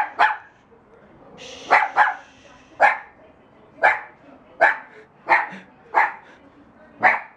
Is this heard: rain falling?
no